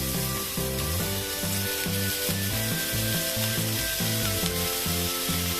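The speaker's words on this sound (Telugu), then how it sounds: "ఇప్పుడు ఈ పన్నీర్ మనం దీంట్లో ఫ్రై చేసుకుందాం" Paneer sizzles in a pan of lightly oiled hot fat, a steady close frying hiss running continuously with a rhythmic scraping under it and no speech.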